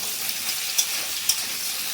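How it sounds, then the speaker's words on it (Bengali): Pointed gourd (potol) frying in oil in a kadai, a continuous bright sizzle with two sharp spattering pops standing out near the middle. "আমি আগে পটলটা ভালো করে ভেজে নেবো ভালো করে দেবে একটু ছিটকায় তেলটা"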